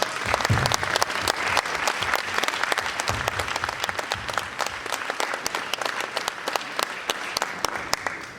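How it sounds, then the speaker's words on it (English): Sustained applause from a crowd, many hands clapping steadily for the full length, dense and fairly close with no pauses. "please stand up and people give you a big round of applause"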